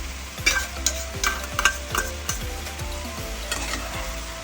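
Mustard paste and chopped green chillies fry in a pan with potatoes and mushrooms, a soft sizzle under repeated scraping strokes of a spatula stirring at a steady rhythm, close and alone.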